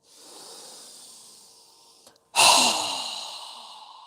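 A strong breath is drawn in and then pushed out forcefully through the mouth during a yoga breathing exercise, a soft rising inhale followed by a sudden loud, airy exhale that trails off, close to the microphone.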